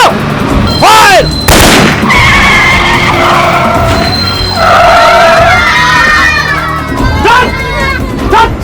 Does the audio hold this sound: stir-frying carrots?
no